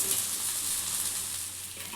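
Onion uttapam made from dosa batter sizzles steadily on a hot pan, a continuous close frying hiss with no voices.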